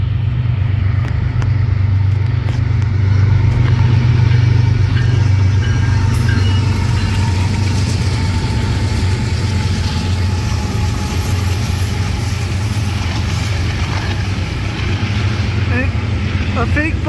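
An eastbound Amtrak Pacific Surfliner train rumbles past, a loud, steady low roar with rattling and whooshing that holds throughout, heard up close.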